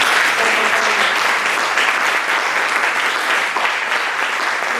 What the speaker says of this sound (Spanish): darte un aplauso y agradecerte tu trabajo